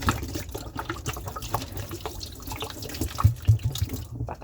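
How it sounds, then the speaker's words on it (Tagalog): Tap water runs steadily into a sink during dishwashing, with a few louder splashes and clinks toward the end. "Palagyan ng tubig."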